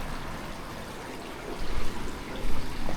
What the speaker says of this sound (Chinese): 还有小溪